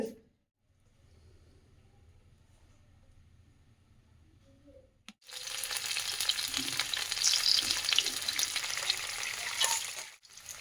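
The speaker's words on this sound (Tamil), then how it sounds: "நைட்டு சாப்பாடுக்கு சால மீன் பொரிஞ்சிட்ருக்கு" Small sardines frying in a pan for a home dinner; quiet at first, then a loud, steady crackling sizzle that lasts for several seconds before dropping off at the end.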